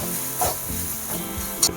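Chili, cumin and other ground spices with salt cook in a pan for samosa filling, a soft sizzle with a couple of quick scraping stirs.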